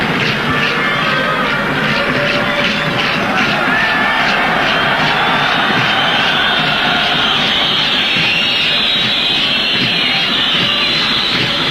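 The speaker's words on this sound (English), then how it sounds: "Loud whistling in the crowd there." A large football stadium crowd at a Nigeria international match roars continuously, with shrill whistling rising above the dense, loud noise throughout.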